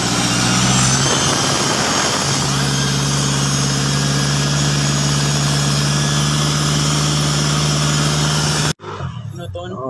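An Isuzu Trooper's 4JX1 diesel engine runs steadily at 2,000 RPM after a fuel and oil mix repair, giving a loud, continuous hum with a strong low drone, then cutting sharply near the end.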